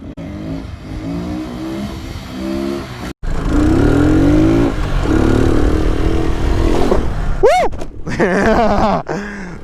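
Lifan KP motorcycle revving hard through a second-gear wheelie, a loud close engine roar that climbs in pitch, cuts out briefly, then surges again with sharp rising revs and a wailing note near the end.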